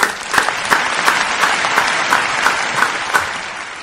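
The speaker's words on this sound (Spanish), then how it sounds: "¡Otro un aplauso!" Applause during an interview with a Venezuelan urban music artist, a steady wash of clapping with sharper bursts recurring about every third of a second, loud and close throughout with no talk over it.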